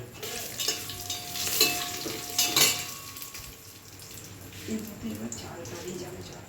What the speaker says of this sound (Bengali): সব দিয়ে ভাজতে শুরু করলাম। কাজু আর কিশমিশটাও দিয়ে দিলাম।